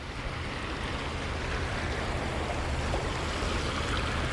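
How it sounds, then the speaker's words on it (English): Water rushes and flows steadily nearby, a constant broadband wash with no voices. "The water is actually flowing pretty good,"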